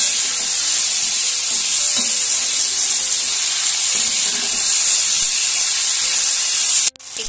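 Chopped tomato with salt, turmeric and a little sugar stirred in a hot pan, giving a loud, steady sizzle and hiss with scraping stirs throughout, cut short by a brief drop near the end.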